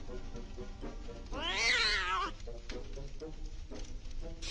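A wild cat in the horror video game Scary Stranger 3D lets out one drawn-out, rising and falling meow. It stands out loudly over quieter game sounds and a voice speaking before and after it.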